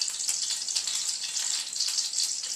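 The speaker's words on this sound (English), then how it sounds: "And we can hear our pan sizzling." A soft, steady sizzle of hot oil in a pan, a fine crackling hiss with no talking.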